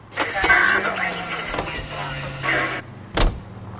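In the video game L.A. Noire, a car door thuds shut and an engine starts with a sharp crank and settles into a low idle, with character voices heard over it.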